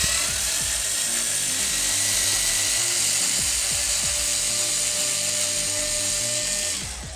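Screws removed from an Xbox One S with a power screwdriver, a continuous high-pitched whirring drone with rhythmic ticking pulses underneath, close and steady, tapering off at the end.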